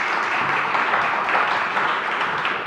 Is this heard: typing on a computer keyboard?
no